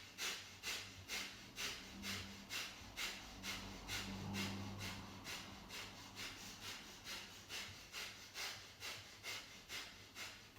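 Forceful, rhythmic pumping breaths from a yoga breathing exercise. Roughly twenty quick, even exhalations are pushed out close by at a steady pace, with no talking.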